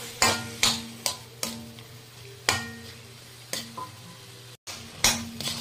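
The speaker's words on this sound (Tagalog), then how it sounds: "Lalagyan na natin yung ating chicken na minarinate natin sa paminta at konting patis." Chicken marinated in pepper and a little fish sauce frying in a pan, a steady low sizzle broken by repeated sharp clinks and scrapes of a utensil against the pan, with no voices.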